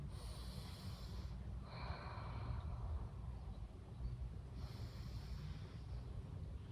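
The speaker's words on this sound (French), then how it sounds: "3 respirations profondes." Slow, deep breaths during a yoga child's pose, two long airy inhale-exhale cycles, close and soft against a quiet room, with no talking.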